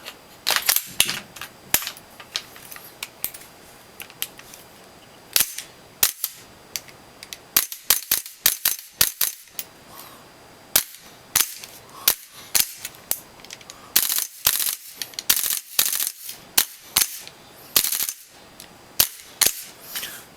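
Gas-powered airsoft M4 (Viper Tech x Prime build) fed from a Pro Win version 2 magazine fires a long series of sharp, loud cracks, single shots and quick bursts spaced irregularly with brief pauses, no talking.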